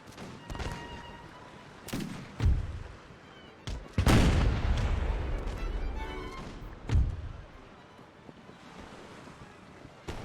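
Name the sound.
musket fire from ship deck in Empire Total War video game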